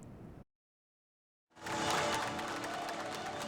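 Applause from a crowd greeting the mayor of Yeosu as he enters his inauguration ceremony, a dense, steady clapping that swells in after a brief silence and holds loud and close.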